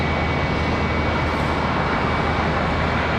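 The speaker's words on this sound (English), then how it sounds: "So American Airlines 2533 off to Chicago O'Hare. Rolling out there." An American Airlines airliner rolls out for takeoff toward Chicago O'Hare at Charlotte Douglas airport, a steady, loud broadband jet roar with low engine rumble holding evenly throughout, no voices.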